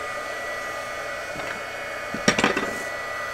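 A craft heat tool blows hot air for a copper patina on a tin tile, giving a steady, even whoosh with a few light clatters and knocks toward the end.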